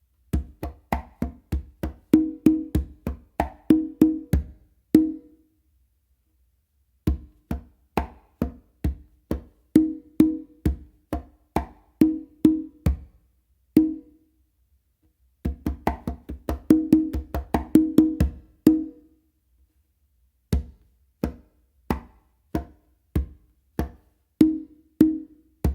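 Conga tumbao groove played alone, repeating cycles of low bass strokes, crisp slaps and ringing open tones in a steady rhythm, phrases separated by brief pauses, close and clear with no voices.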